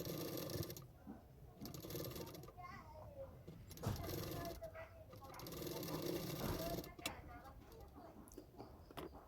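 A sewing machine stitches pieces of a two-piece katori blouse with a fast, steady mechanical chatter that runs in stretches, under someone talking and children's voices in the background.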